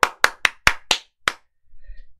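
Hands clapping at the start of a Korean morning stock market broadcast, six sharp, loud, close claps in a quick, slightly uneven rhythm, followed by a short burst of voice.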